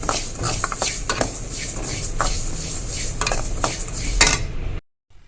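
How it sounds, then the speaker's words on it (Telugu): Sesame seeds toasted in a pan in a home kitchen, heard as repeated metallic scraping and clinks of a spoon stirring against the pan over a soft sizzle, ending abruptly. "ఫస్ట్ నువ్వులు ఫ్రై చేస్తున్నా"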